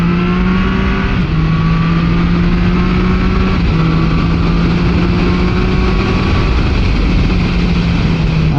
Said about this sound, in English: Get a nice induction roar off this.